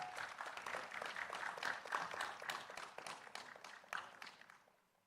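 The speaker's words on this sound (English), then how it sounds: "Let's give them a round of applause." An audience claps for the members of a panel at a talk on digital access. The applause is dense and fairly faint, with no voices, and fades out at the end.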